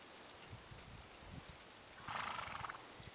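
A horse moving and changing its lead leg, with soft hoof thuds at a steady rhythm and a brief burst of louder noise partway through, all faint and at a distance.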